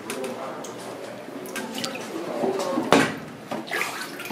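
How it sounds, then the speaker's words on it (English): Water drips and trickles from a whetstone soaked for knife sharpening, scattered small drops and splashes close by with one sharper plop, in a quiet workshop. "You have to keep your stone for a while, like 5 or 10 minutes in the water."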